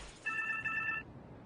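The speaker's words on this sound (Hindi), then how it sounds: "फोन बज रहा है।" A telephone rings once with a steady electronic trill, lasting under a second against a low background hum.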